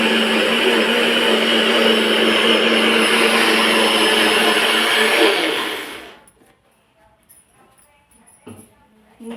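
A mixer grinder blends onion, tomato, two garlic cloves and a piece of ginger for chicken biryani, a loud steady whirring roar that runs for about six seconds, then winds down into near silence broken by faint small kitchen sounds.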